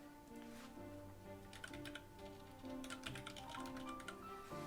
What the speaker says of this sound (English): I'm typing it in because it's not that many cards.